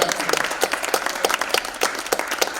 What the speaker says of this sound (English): So if you can applaud Alderman Sawyer with me.